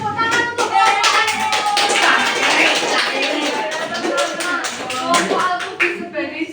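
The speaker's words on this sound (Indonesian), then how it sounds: "Oke, beri tepuk tangan untuk Bapak." An audience applauds a second-place winner at a religious gathering: steady, dense clapping from many hands, loud and sustained throughout, with faint voices underneath.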